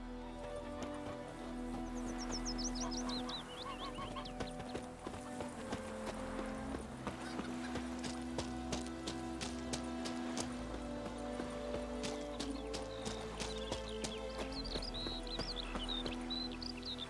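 Roach, the horse in The Witcher 3, trots with a steady clip-clop of hooves close by, a whinny rising early on, over game music and ambience.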